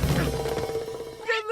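A short, high cartoon-style cat meow, voiced with a wavering tone, followed by a brief squeak near the end.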